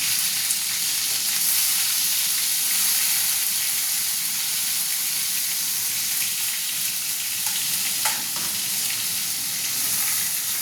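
Onion paste frying in hot oil in a wok for a prawn malai curry, giving a steady, loud, even sizzle and hiss that runs through the whole stretch, with one brief clink of stirring near the end.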